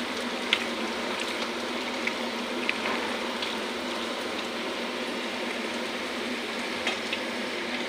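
Onions worked by hand into duck meat frying in a pan, giving a continuous close sizzle and soft stirring texture with a few small sharp clicks, no talking.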